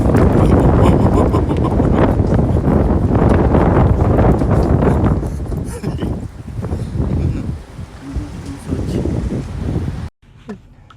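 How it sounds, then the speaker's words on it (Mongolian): Outdoor wind buffets a microphone near a boat, a loud rough roar through the first half that eases into gustier, patchier bursts before cutting off abruptly at the end. "Одоо юм салхитаараа."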